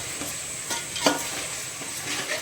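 Onion with turmeric, spice masala and ginger-garlic paste sizzling in a pan for chana masala, a steady close fry with a few scraping stirs, no talking.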